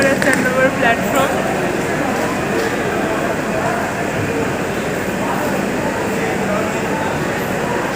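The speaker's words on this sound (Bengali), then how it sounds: "ব্যান্ডেল স্টেশনের 3 নম্বর আর 4 নম্বর প্ল্যাটফর্ম।" Night ambience on platforms 3 and 4 at Bandel railway station at 2:40 am: a constant, fairly loud hum and rumble, with faint scattered sounds and no train arriving.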